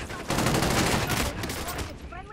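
Dense, rapid Warzone gunfire rattles continuously for a couple of seconds, fairly quiet and muffled, with faint voices underneath.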